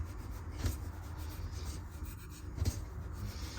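Soft, quiet rubbing of cold butter into a dry crumble mix by hand, a steady low scratchy friction with a couple of slightly firmer bumps, close by, with no talking.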